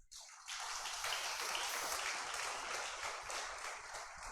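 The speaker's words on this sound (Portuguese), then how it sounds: "Aplauda Jesus." A church congregation breaks into sustained applause after a brief silence, a steady, even patter of many hands heard faintly at a distance with no voices.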